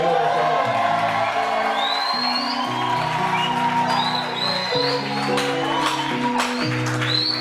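A church seminar crowd breaks into loud shouts of victory, whoops and sustained applause, dense and close, with cheering voices and music layered throughout.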